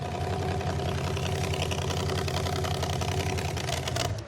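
A car engine idles steadily while the radiator is being bled with the radiator raised above the engine, a close, continuous running hum that cuts off near the end.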